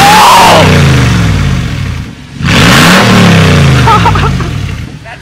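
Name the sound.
truck engine with straight pipe exhaust revving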